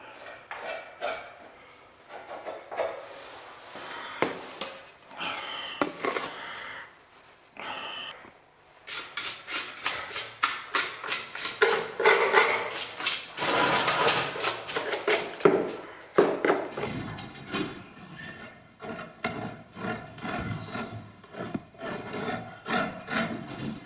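Filler being worked over cracks in the sides of doors inside a pub, a close, rasping scrape of blade on wood that builds into steady, rapid back-and-forth strokes, with short pauses early on.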